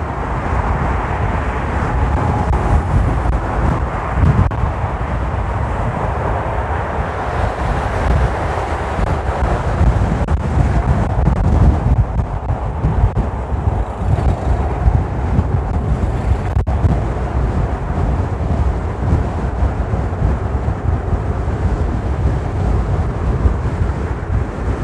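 Wind buffets the microphone in a steady, loud low rumble during a ride on an Inmotion V11 electric unicycle outdoors, with a continuous roar and no talking.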